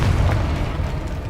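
A Confringo fire spell bursts in the game Hogwarts Legacy, a loud, deep booming blast with a rumbling low-end body that sustains steadily for a moment without any talk.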